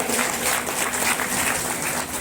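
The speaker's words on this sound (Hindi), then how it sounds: "जोरदार ताली।" Sustained, dense applause from an audience at a night satsang gathering, a steady wash of clapping that holds at even loudness for the whole stretch, with no clear voices.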